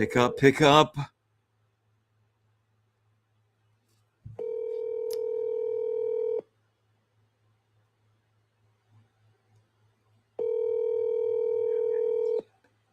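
Two long steady ringback tones from an outgoing telephone call, each lasting about two seconds with a long gap between them, after a short burst of speech at the start.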